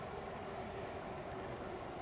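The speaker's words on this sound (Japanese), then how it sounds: "電車の音か、 電車の音" A faint, steady rumble of a train passing at a distance at night, low and continuous with no voices.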